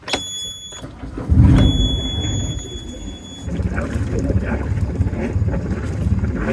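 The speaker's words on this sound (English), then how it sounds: "now we're gonna fire up the engine and take a look at the exhaust" A boat's engine cranks and catches, settling into a steady low rumbling idle with wind noise and clatter over it.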